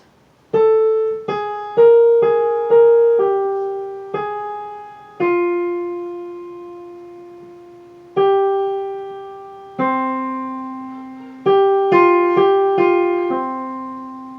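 A keyboard plays a short, simple melody alone from Khachaturian's "Andantino", single notes struck one at a time with some held longer, each decaying before the next.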